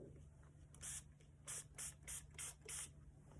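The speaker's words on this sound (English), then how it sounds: "Now I'm going to take my spray bottle." Six quick hissing bursts from a spray bottle spraying water onto embroidery fabric, irregularly spaced, close by, over a faint steady hum.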